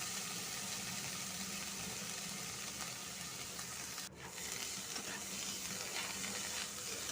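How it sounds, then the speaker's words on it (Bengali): Vegetables tossed with spices in a hot pan for oats khichuri, giving a steady close sizzle and frying hiss throughout, with one brief dip in the middle. "সবজিটা দিয়ে মশলার সাথে ভালো করে একবার মিশিয়ে নিচ্ছি"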